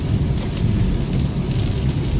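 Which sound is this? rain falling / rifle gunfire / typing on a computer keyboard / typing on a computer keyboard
rain falling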